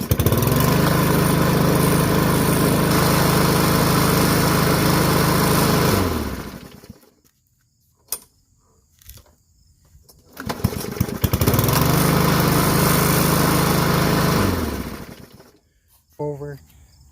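A Yard Machines push mower with a 6.75 Briggs and Stratton engine, being repaired, roars loudly for about six seconds and cuts out. After a pause it restarts, runs again for several seconds and dies, then gives a short final sputter.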